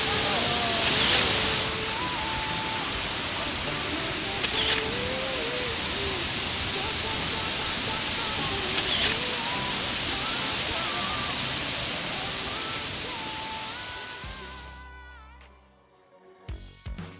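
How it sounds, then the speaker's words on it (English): A large waterfall in Chihuahua, Mexico roars as a steady, loud broadband wash of falling water, continuous for most of the stretch before fading away near the end, with faint bird chirps scattered above. "we were finally witnessing one of the most breathtaking waterfalls"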